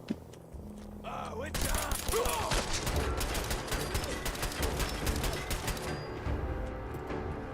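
Pipe bolt-action rifle in Fallout 4, with a sharp shot near the start and then a dense run of loud cracks and clattering impacts that fill the rest of the clip.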